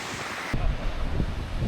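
A large Icelandic waterfall roars in a constant broadband rush, with wind buffeting the microphone and no voices.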